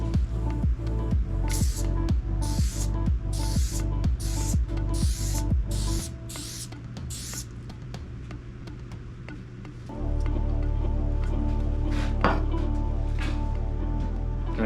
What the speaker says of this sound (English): now we're going to spray the penetrant and let it set for up to 30 minutes